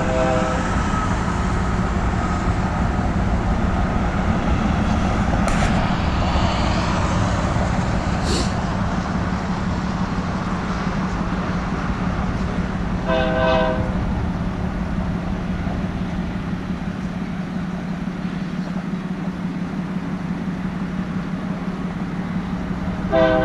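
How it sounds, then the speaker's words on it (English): A westbound Union Pacific freight train heading for Ogden rolls past close by with a loud, continuous rumble of wagons, and a few short horn blasts stand out over the steady din. "This is a westbound train coming"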